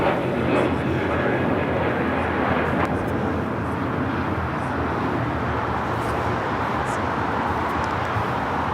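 A jet takes off from runway 25 Right at LAX with a broad, roaring rumble that holds steady at a distance.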